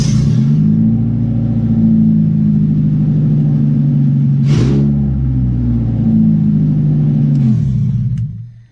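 A Honda Civic with a broken lock cranks and fires up, its engine settling into a loud, rough, throbbing idle with a sharp blip of revs midway before it cuts off near the end.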